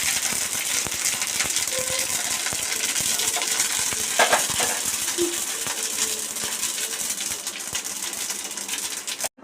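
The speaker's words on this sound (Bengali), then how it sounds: "এখানে আমি সাদা সর্ষে দিয়ে দিলাম, আর কারি পাতা দিয়ে দিচ্ছি।" White mustard seeds and curry leaves crackle and spit in hot mustard oil, a dense continuous sizzle with scattered sharp pops and rattling spatters, fairly close and steady throughout with no talking.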